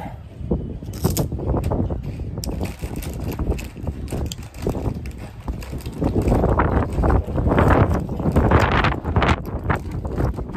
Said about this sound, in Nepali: हावा चलेछ